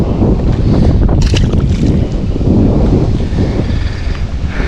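Wind blows hard across Lake Minnetonka near a small dock, a steady, close, rumbling buffet on the microphone with a few brief hissy gusts and no talking.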